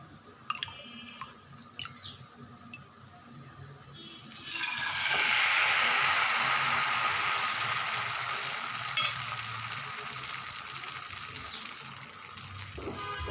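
A steady sizzle rises after a few seconds of quiet clinking and continues, like batter frying in a hot pan.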